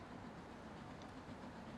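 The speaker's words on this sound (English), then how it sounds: "We got a steam train coming overhead." A steam train passing in the video game Transport Fever, a faint steady rolling rumble with light rhythmic rail clatter and no voices.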